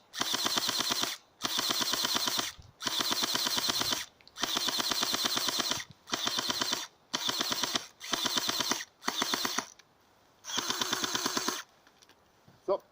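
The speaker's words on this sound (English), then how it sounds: "Let me empty the magazine." An ASG HK416 airsoft gun fires full-auto bursts while emptying a magazine, producing rapid, loud mechanical rattling in about nine separate strings with short pauses between them.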